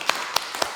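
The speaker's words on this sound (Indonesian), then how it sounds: "Berikan tepuk tangan dulu untuk Nurhaliza" A few people clap for a student in a classroom during a teaching-practice lesson: three sharp, evenly spaced claps, close and very brief.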